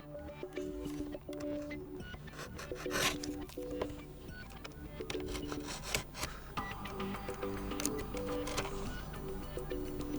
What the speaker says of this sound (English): I'll need to use a knife to cut the foil.